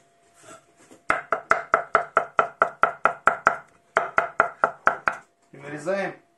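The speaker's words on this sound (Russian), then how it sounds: "И нарезаем тоже мелко наши крабовые палочки." A knife finely chops crab sticks on a cutting board in a fast, even run of about seventeen sharp knocks with one short pause. A voice speaks briefly before and after.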